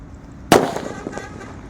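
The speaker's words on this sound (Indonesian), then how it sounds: "Lanjut di sini ada mercon petir guys." A thunder firecracker (mercon petir) bursts with a single sharp, loud bang partway through, followed by a brief crackling decay over quiet outdoor background.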